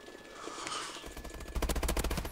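Automatic gunfire in the video game Call of Duty: Advanced Warfare, a loud rapid rattling burst of shots that follows a short swell of game noise.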